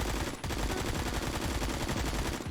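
AK74 rifle firing in the Phantom Forces video game, a dense, continuous stream of rapid automatic shots with a brief break near the start, loud and steady throughout with no talk.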